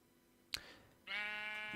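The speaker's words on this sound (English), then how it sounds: "I just heard a sheep." Minecraft sheep bleating in a modded game world, a sharp click followed by a single sustained nasal bleat, close and fairly quiet.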